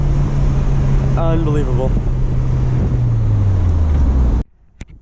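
Engine rasp from a 1993 NA Mazda Miata under way, a steady loud drone with a falling tone and wind noise, while someone speaks briefly over it before it cuts off abruptly near the end.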